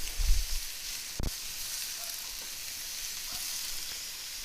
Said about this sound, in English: you want this skillet to be really hot so that they sear really nice